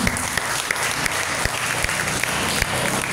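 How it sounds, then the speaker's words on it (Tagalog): A congregation at an El Shaddai youth prayer meeting claps loudly for the Lord, a thick continuous applause with occasional sharper individual claps cutting through, steady and close throughout. "malaya na po tayo pumalakpak ng mas malakas sa Panginoon"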